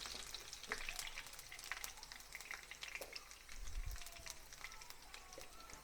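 Curry leaves crackle in hot oil while tempering a spicy tamarind pickle, giving quiet, scattered sharp pops and sputters over a low, continuous sizzle up close.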